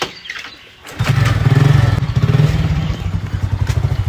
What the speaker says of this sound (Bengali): ও বেরিয়ে পড়ছে বাইক নিয়ে